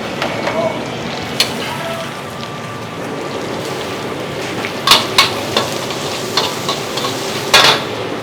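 Nasi goreng kampung fries in a wok at a busy food stall, with a continuous loud sizzle broken by sharp metallic clanks and scrapes as the rice is stirred and tossed.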